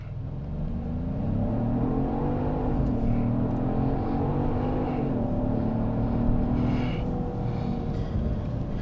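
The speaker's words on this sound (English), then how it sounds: "We're going to go ahead and brake boost it because it did like that earlier, and away we go." A Genesis GV70 SUV launches hard from a brake-boosted start, its engine note rising and falling as it pulls through the gears, loud and continuous, close by, with no talking.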